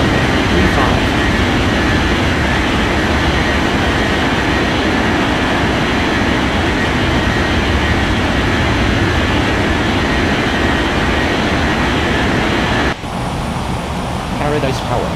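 AirAsia airliner taking off in an air traffic control game: a sustained, loud jet engine roar with broad rushing noise that runs steadily for about thirteen seconds before dropping away, with faint voices underneath.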